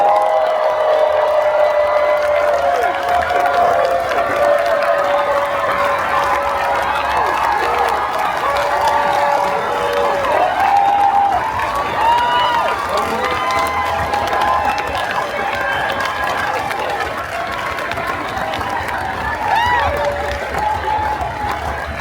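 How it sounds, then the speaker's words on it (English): Audience at a Montreal Comiccon panel applauds and cheers steadily and loudly for the full stretch, a dense wash of clapping with whoops and shouts rising throughout. "We didn't have to do anything to get that kind of applause"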